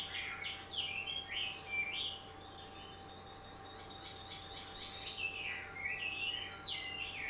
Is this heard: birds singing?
yes